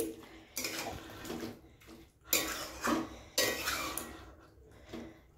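A spoon clatters and scrapes through jackfruit and prawn curry in a pan in bursts of irregular metallic knocks and wet stirring, close and moderately loud, with short pauses between strokes.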